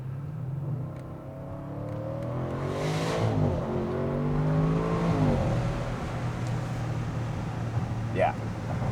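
A 600-horsepower European car accelerates on the road, its engine note climbing in pitch through a smooth rising sweep over a low rumble, then settling back into a steady cruise.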